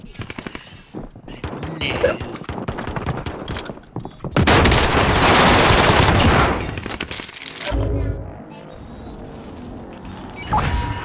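Rapid automatic gunfire in a video game rattles in dense bursts, swelling into a loud sustained volley midway, with excited voices talking over the shooting.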